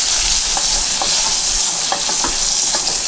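Escalopes fry in a hot pan on their second side, giving a loud, dense, continuous sizzle with scattered small pops and crackles throughout.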